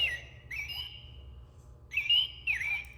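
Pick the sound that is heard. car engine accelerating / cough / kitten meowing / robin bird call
robin bird call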